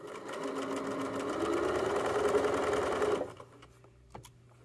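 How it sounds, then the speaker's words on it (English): Sewing machine stitching the top seam of a fabric Chromebook case at a narrow seam allowance, a close, fast steady whirring hum that stops abruptly near the end, followed by a soft click. "I'm sewing the whole bag at 1/8 inch seam allowance"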